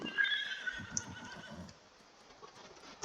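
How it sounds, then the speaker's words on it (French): A horse neighs in a farming video game, a clear whinny at the start that fades into softer background sounds with a faint clip-clop of hooves. "Donc là, on a un cheval."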